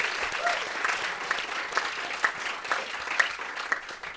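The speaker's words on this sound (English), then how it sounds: "So give yourselves a round of applause." A live podcast audience at the Comedy Cellar claps in a sustained, dense round of applause, loud and close, with a few whoops rising over the clapping.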